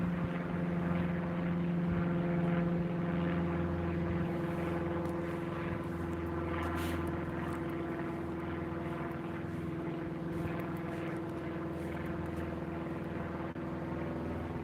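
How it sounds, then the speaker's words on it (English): A propeller plane flies over a Blackpool street on a cold February evening, its low droning engine hum steady and moderately distant, fading slightly toward the end with no talking. "Plane flying over."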